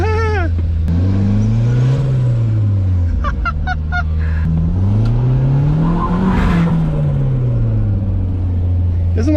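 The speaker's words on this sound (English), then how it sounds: "Doesn't like to go full throttle, so it might be hitting a fuel cut or something" A wrecked Mazda Miata engine, secretly turbocharged, revs hard toward full throttle in repeated rising and falling pulls. It is loud and close, and brief voices and small clicks can be heard in between.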